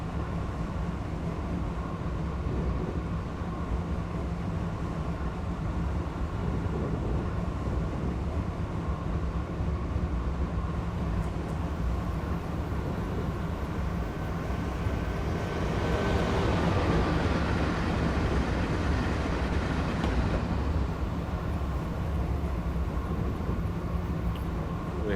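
An Acela Express train on the Northeast Corridor in Train Simulator 2018 runs with a steady low rumble and drone, swelling slightly louder midway before settling back.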